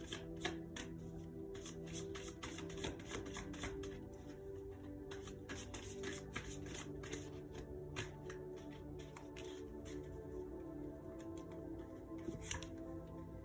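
Tarot cards are shuffled continuously by hand, a close, dense run of papery riffles and slaps with no talk over it.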